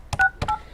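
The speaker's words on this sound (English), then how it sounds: "You might have to dial 1 because it's long distance." Two touch-tone telephone keys are pressed while dialing a long-distance number, two short clear beeps each starting with a button click, close and loud with no talk.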